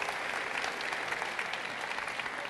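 Continuous audience applause at a French speaking event, a dense, even wash of many hands clapping at moderate volume throughout.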